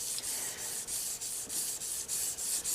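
A fillet knife blade is hand sanded with wet sandpaper up to fine grit, giving a close, rhythmic rasping rub in even strokes about three per second, with short pauses between passes and no voices.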